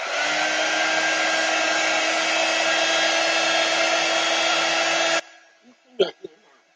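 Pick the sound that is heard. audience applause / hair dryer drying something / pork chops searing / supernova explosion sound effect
hair dryer drying something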